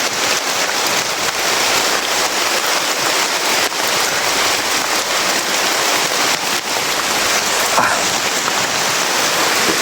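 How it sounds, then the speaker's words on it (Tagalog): Heavy rain pours down steadily and loudly, a dense continuous hiss with no pauses. "Grabe, lakas ng ulan tol."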